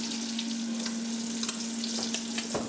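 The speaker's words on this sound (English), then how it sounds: "baste the meat with this garlic and butter sauce while it's cooking" A steak sizzles steadily in a pan while being basted with garlic butter sauce, a continuous frying hiss with faint spoon taps and spatters, no talk.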